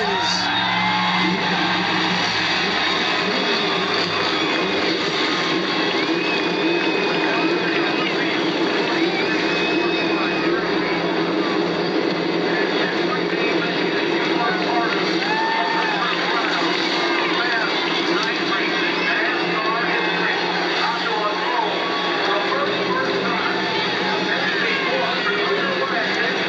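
Stock car engines at the start of the 1999 Pepsi 400 at Daytona International Speedway build a loud, dense, continuous roar of many engines together that holds steady throughout.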